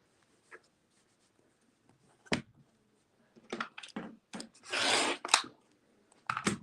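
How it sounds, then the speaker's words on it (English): A 60mm rotary cutter trims the edges of a quilt block, giving short scraping, rasping strokes against the fabric and cutting mat, sparse at first and then quicker, with one longer drawn cut, all faint and close. "a 60mm rotary cutter, and you can trim that away"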